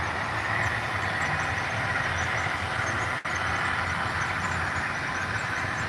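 Model freight trains run steadily at about 30 miles per hour, a continuous even rumble with a brief dropout partway through, no talking.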